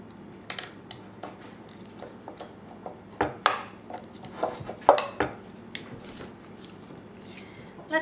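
A spoon clinks and scrapes rhythmically against a bowl while tahini sauce is mixed with lemon juice, with irregular sharp taps and quiet gaps, close and fairly faint, no talking.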